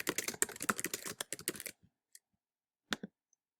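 Rapid typing on a computer keyboard, a dense run of close, crisp key clicks for under two seconds, then silence with a few isolated taps.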